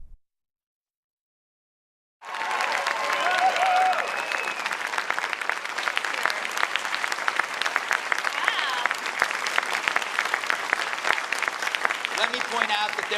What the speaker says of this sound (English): Let me point out that they're clapping more for you.